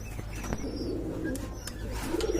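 Soft, low cooing from King pigeons repeats over a steady background hum, with a few faint chirps mixed in.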